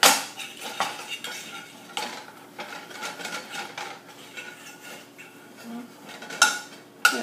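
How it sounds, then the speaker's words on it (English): Ground beef and macaroni mixture stirred in a pan with a utensil, giving soft scraping and clinking against the metal at close range, with a few sharper knocks near the end. "I'm going to keep stirring it until all of that"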